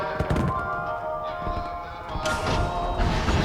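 Fireworks in the video game Batman: Arkham Asylum crackle and boom in a run of sharp, irregular bursts, with a brighter, louder cluster toward the end.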